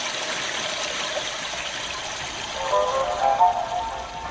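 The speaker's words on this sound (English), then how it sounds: "A device that mimics the sound of an ever-flushing toilet." A restroom sound device plays a recorded toilet flush as a steady, rushing wash of water noise that swells slightly near the end, close and continuous, with no talking.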